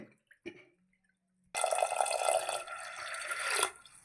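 Water poured into a cooking pot for Telugu-style moong dal pulagam, a steady broadband pour beginning abruptly after a few faint clinks and running about two seconds, close and fairly loud, then tapering off.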